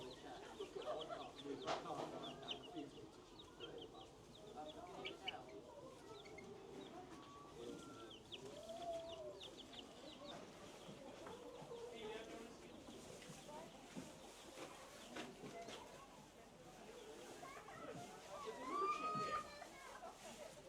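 Chickens and roosters cluck and call on a farm, faint and scattered behind a person talking, with a few clearer calls near the end.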